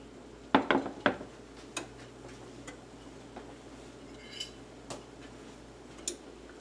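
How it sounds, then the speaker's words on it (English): Stuffed Italian artichokes set down into a cooking pot, heard as a few sharp clattering knocks of vegetables against the pot near the start, then lighter scattered taps and clinks in a quiet kitchen. "Okay, so now we're going to carefully put our artichokes in the pot."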